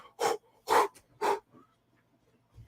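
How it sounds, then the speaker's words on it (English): Three heavy, gasping breaths from a video game character after a jump, each a loud, close rush of air spaced about half a second apart, then near quiet. "I love that you can hear him breathing."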